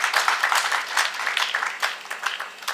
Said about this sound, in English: We must have to applaud the administration.